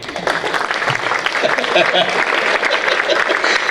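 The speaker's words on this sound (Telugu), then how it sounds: "గట్టిగా చప్పట్లు కొట్టండి." Students and visitors at a school science exhibition clap in a lively, uneven round that sounds close and fairly loud, with voices mixed in throughout.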